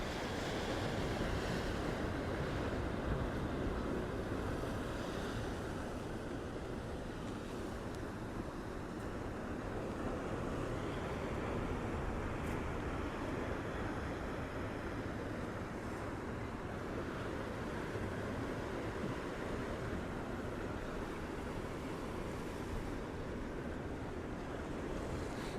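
High-tide ocean surf washes up a Gold Coast beach in a constant, loud roar of breaking waves, with some wind buffeting and no voices.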